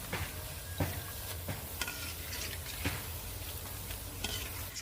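Green gram-flour boondi fry in hot oil, giving a steady, dense sizzle with occasional clicks and scrapes of a slotted spoon, heard close up and without any talking.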